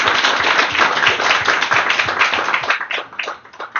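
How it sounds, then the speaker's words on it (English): Audience applause closing a session on rental housing, dense close clapping from a crowd that thins out and tapers near the end. "Let us give a round of applause to Magnus and Tatiana again."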